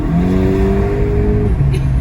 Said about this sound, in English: you can hear every time the diverter valve shuts and your throttle body closes.